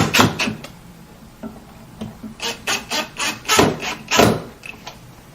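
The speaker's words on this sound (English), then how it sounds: "I'm going to apply pressure down. I'm just going to screw them right in place." Screws driven with downward pressure into a wooden drawer box, through into the drawer front, giving a series of short, rasping, grinding bursts of rising intensity, close and moderately loud, with no talk.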